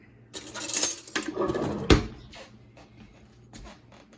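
A spoon lifted from a cutlery holder beside a hot dish of gluten-free chicken and dumplings, giving a short cluster of metallic clinks and rattles up close, fading into quiet room tone.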